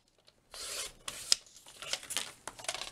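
Paper trimmer blade sliding through card stock, a close, quiet rasping swipe with a few short scraping strokes and small clicks.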